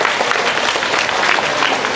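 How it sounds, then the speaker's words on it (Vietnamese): Applause from a congregation at a church mass, a steady dense wash of many hands clapping together, loud and continuous throughout. "Chúng ta cùng vỗ một tràng vỗ tay mừng nữa."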